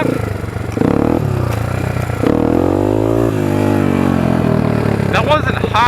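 A motorcycle on its original clutch revs loudly and close for a quick wheelie, the engine pitch climbing in a sharp rising sweep and then holding a strong, steady drone.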